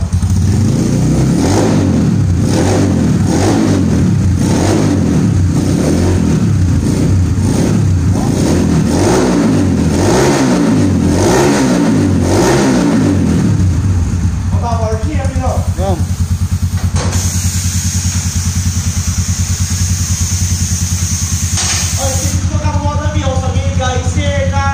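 A tuned Yamaha Factor motorcycle engine, bored from 125 to 140cc, revs repeatedly in rising and falling bursts, loud and close, then settles into a rough idle with voices talking over it.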